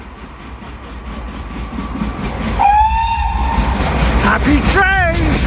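The steam locomotive Nunney Castle runs through a rainy railway station, its rumble building as its whistle sounds once in a long steady note and then again in a short warbling blast, close and loud over background hiss.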